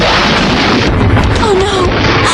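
In a 1992 animated series, an attack hits the base with a loud, continuous roar of explosions, a dense rumbling wall of blasts with faint tonal effects running through it.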